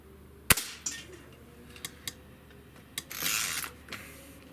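A Diana RWS 75 match air rifle fires a single sharp, close crack, followed by a few faint mechanical clicks and a brief rustle of handling.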